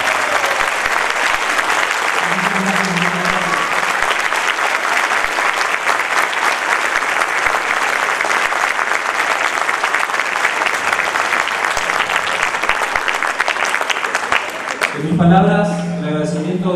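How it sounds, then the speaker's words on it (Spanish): A standing audience in Samacá gives a long, loud, dense applause for visiting folk dancers and musicians, the steady clapping filling the space before a voice begins speaking at the end. "los invito a ponernos de pie y a regalarles un fuerte aplauso a este pueblo de Andalucía"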